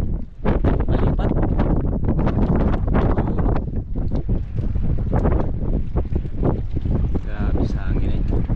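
Strong sea wind buffeting the microphone near boats on the water, a loud continuous roaring rumble that stays heavy throughout, with people talking faintly beneath it.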